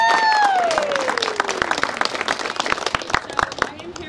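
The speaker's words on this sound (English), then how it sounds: "Can we please get a clap for Recruit Gigs" A ribbon-cutting crowd claps for about four seconds, a brisk patter of many hands, while a voice talks over the start.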